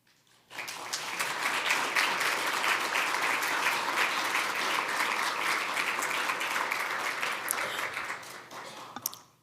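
Broad applause fills the hall at an annual health consortium meeting, starting abruptly after a brief quiet moment and holding as a steady, thick wash of clapping for several seconds before fading.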